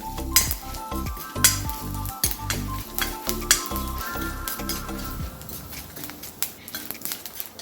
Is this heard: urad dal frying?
yes